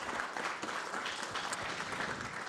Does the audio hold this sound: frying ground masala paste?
no